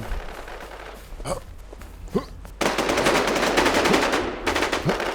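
Gunfire in the video game Infest: a few separate single shots followed by long bursts of rapid automatic fire, loud and close, with no talking.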